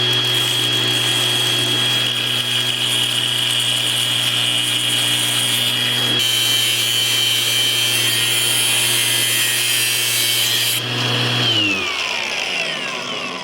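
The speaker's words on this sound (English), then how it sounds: "No bond survives an angle grinder." An angle grinder cuts through an Apple phone frame of titanium and aluminum, giving a loud, steady whine with a continuous abrasive hiss that holds for about eleven seconds, then shifts and winds down near the end.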